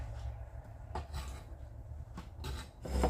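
A knife cuts meat into chunks on a board for a baked vegetable stew, giving a few sharp knocks and soft slicing rubs in close, steady work with no talking.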